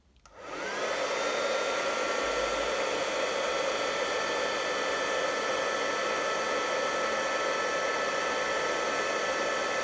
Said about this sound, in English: you're going to heat it fairly close, about that close, and turn it, and the Tyvek will gradually start to melt